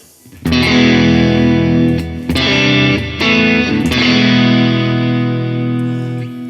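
Distorted electric guitar chords on the neck pickup through a Vox AC30 amp plugin ring out loudly, a few strums struck and left to sustain with a warm, thick amplified tone.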